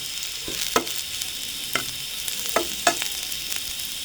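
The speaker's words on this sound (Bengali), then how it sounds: "কড়াইতে কিছু তেল বসিয়ে পেঁয়াজ রসুন শুকনো শুকনা মরিচ কেটে দিয়েছি এগুলো একটু ভাজা করে নেই" Onion, garlic and dried chili fry in oil in a wok under a soft constant sizzle, punctuated by several sharp scraping stirs of a spatula, with no talking.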